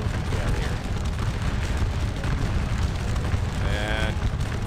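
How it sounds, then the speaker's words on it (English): Napoleonic battlefield artillery in Scourge of War Waterloo, heard as continuous low rumbling booms and dull distant blasts rolling together at steady loudness, with a voice talking over them. "Let's keep ourselves out of range of that artillery being terrible"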